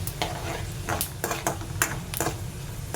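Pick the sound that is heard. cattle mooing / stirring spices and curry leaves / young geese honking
stirring spices and curry leaves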